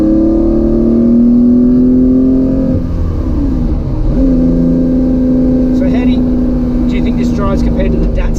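A Porsche 911 2.8 RSR engine drones loudly from inside the car while driving, holding a steady pitch, briefly dropping and then settling back into a constant hum as the car cruises.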